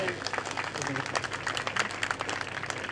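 An audience at an inaugural session claps steadily for children who have just recited, a dense continuous applause with voices mixed in throughout.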